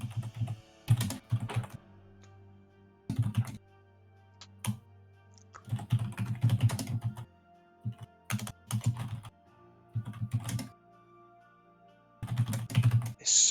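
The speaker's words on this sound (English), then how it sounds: "There's so much typing in this game." Rapid bursts of computer keyboard typing during an online Twilight Imperium tournament game, coming in irregular clusters of clacking keystrokes separated by short pauses, close and fairly loud with no talking.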